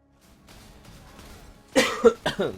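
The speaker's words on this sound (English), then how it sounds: "Still coughing a bit" Several loud, close coughs from a man with lingering after-effects of a cold or flu, a hacking burst followed by two or three shorter coughs, after a stretch of quiet game background.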